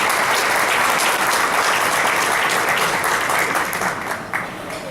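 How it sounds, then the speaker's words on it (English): Sustained applause from a large crowd, loud and dense, tapering slightly toward the end. "you should give yourselves a round of applause"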